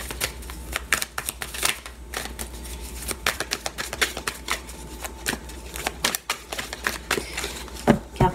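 Tarot cards shuffled by hand, a dense run of crisp riffling snaps and soft slaps close up, continuing steadily with brief pauses between bursts.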